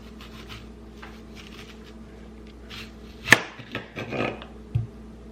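A kitchen knife slices through an onion on a cutting board, cutting it into thick rings for Hot Cheeto onion rings; one sharp loud chop stands out, followed by a few softer cuts and a final clunk.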